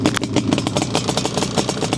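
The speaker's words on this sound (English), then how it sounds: "Very low compression, obviously, being the two-stroke twin. Sounds really good with those pipes." A restored Yamaha RD350LC two-stroke twin motorcycle with aftermarket expansion-chamber pipes idles close by, a steady, busy burble with fast even pulses and a light rattly top.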